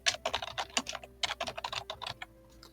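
Computer keyboard typing while a workflow node is renamed to send cold emails in a lead-scraping and automatic email setup: quick, uneven bursts of keystrokes, close and clear, with no talking.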